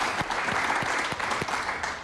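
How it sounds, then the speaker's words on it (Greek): Steady applause from an audience cheering for schoolchildren who donated their hair, continuous clapping with a few sharper individual claps standing out, fairly close and even throughout. "Πάμε να χειροκροτήσουμε εδώ τα παιδάκια, τα γλυκά, τα παιδάκια."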